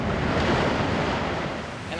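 A massive tsunami wave roars and crashes continuously, a loud, dense wash of churning water and wind-like rush filling the whole span without pause.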